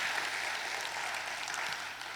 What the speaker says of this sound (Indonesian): Yang setuju berikan tepuk tangan buat Tuhan Yesus.